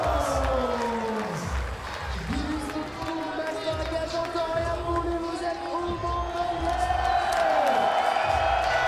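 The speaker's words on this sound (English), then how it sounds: "Listen to the crowd just hyping up the riders" An outdoor crowd at the FISE World Montpellier 2015 BMX spine final cheers and whoops continuously for riders, a broad roar that stays under a commentator talking throughout.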